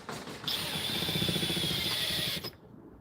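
A power drill with a bent bit whirs for about two seconds as it drives a screw, a close, steady motor whine that cuts off abruptly.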